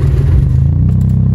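A loud car engine rumbles nearby while reversing during a driving lesson, revving briefly with the clutch pressed and then settling into a steady low idle.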